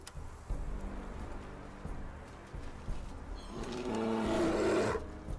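A bear roars in the medieval strategy game Crown Wars: The Black Prince. The deep, growling roar swells near the end over a steady rain-like ambient bed.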